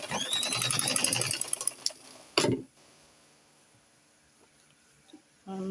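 A sewing machine stitching a plunging princess-dart neckline runs in a fast, close whirring chatter for about two seconds, then stops with a brief clatter before near silence and a faint click.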